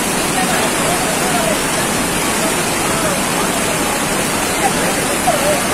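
Overflowing water from Gulur lake in rural Tumakuru rushes continuously after heavy rain, a loud, dense, unbroken roar with faint voices barely audible beneath it.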